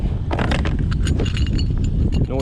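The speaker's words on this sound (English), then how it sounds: "Noisy old chain on the boat." An old, noisy chain rattles and clinks aboard a boat in a quick run of irregular metallic knocks over a steady low rumble of wind and water.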